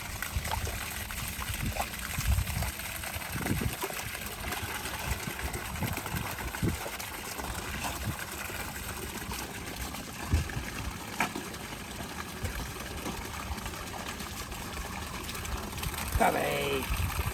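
Flowing water trickles and splashes steadily for the whole stretch, a continuous close wash with a few small bumps along the way.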